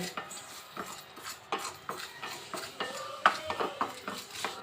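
Fennel seeds, whole cumin and a pinch of salt are dry-roasted in a pan for a dahi vada chutney, with repeated scraping and clinking stirring strokes over faint sizzle, close and without talk.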